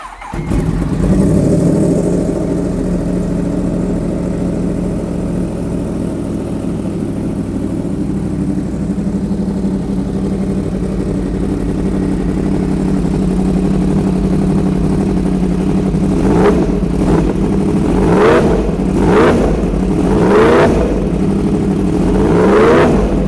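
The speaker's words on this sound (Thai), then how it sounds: "เดี๋ยวฟังเสียงรถกัน" A modified 2017 Yamaha R1 motorcycle with about 17,000 km settles into a steady, rumbling idle up close, then sharp throttle blips near the end send the engine into several quick, loud revs.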